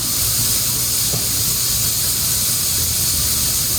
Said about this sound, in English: my sauce is coming to a boil